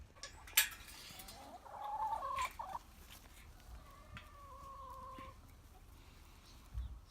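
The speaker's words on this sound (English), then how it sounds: "I'm going to let them out for their first walk" Chickens on a Highland smallholding cluck softly as they are let out for their first walk, with scattered quiet clucks and a few short calls over faint outdoor background.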